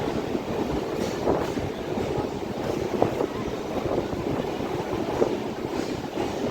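A train at Kolkata station produces a steady broadband rumble with wind-like noise and occasional faint clanks, heard from nearby.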